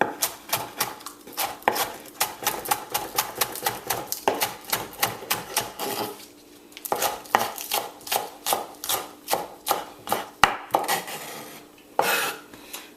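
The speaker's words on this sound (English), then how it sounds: "I've got my green onions here, my scallions, so many names. And all I'm doing is giving that a fine chop." A knife finely chops green onions (scallions) on a cutting board, a fast, even run of crisp knocks close by, pausing briefly at about six seconds before resuming.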